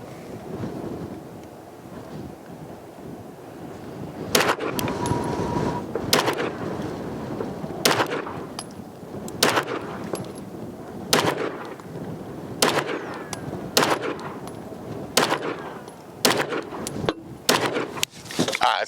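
An Atlas Gunworks Apollo pistol fires 115 grain rounds at a target 10 yards away, about a dozen sharp, loud shots in an irregular string after a quiet, windy start.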